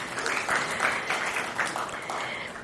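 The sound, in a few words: conference audience applause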